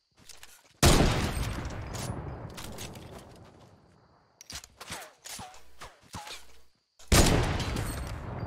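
Gunfire in Fortnite Battle Royale: a loud close burst of shots that rings out and decays, then scattered softer shots, and another loud burst near the end.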